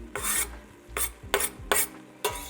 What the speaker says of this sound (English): I'm going to add the garlic to that.